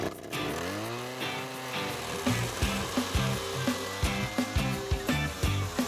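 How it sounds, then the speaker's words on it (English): A power auger digging holes for chain link fence posts, its engine spinning up with a rising whine and then churning with rhythmic knocks and grinding as it bores into the soil, close and continuous. "If you have a lot of holes to dig, consider using a power auger like this one."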